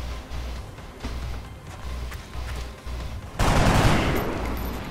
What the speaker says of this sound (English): We're going to take shots at him.